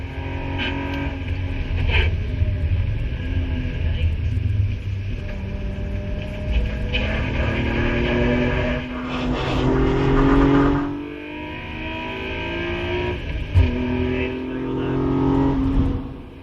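Naturally aspirated Toyota Supra race car lapping a wintery Oulton Park circuit, engine droning loud and continuous from onboard, rising and falling with gear changes and throttle, with faint speech underneath.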